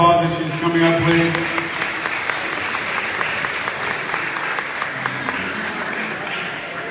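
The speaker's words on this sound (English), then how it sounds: "Can we give her a round of applause as she's coming up, please?" Audience applause at a school district breakfast event, steady clapping rising after a short spoken request and continuing as someone walks to the front, then tapering.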